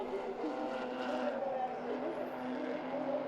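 The Q1 Track Racing Porsche race car powers through the final corner at a Belcar endurance round, a sustained engine roar heard at a distance beneath a commentator's voice.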